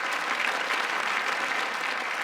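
A live comedy-show audience bursts into steady, full applause that holds at an even level throughout, dense and close with no voice over it.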